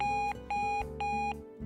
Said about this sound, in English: our 102 decibel extra loud alarm with adjustable tone and volume control